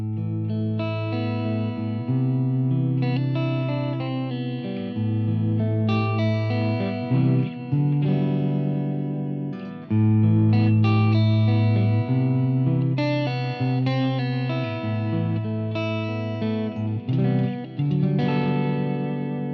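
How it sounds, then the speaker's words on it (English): An Ibanez RG electric guitar plays clean chords and melodic phrases through an amp's clean channel, with soft Boss DD-3 delay and reverb trailing each note, loud and close, with no voices. "just a little bit of delay on there, courtesy of the Boss DD3, and a little bit of reverb"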